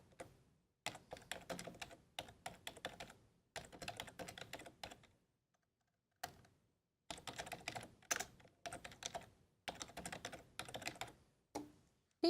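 Someone types on a computer keyboard with quick, faint clicks. The keystrokes come in bursts of a second or two, broken by brief silent pauses.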